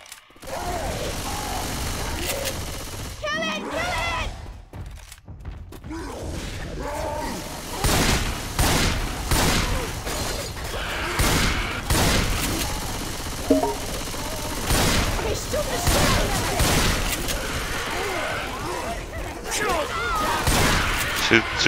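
Rapid gunfire from the co-op zombie shooter Left 4 Dead 2 on the Hard Rain campaign, with repeated bursts and mechanical clatter from weapons, under shouting players during a competitive match.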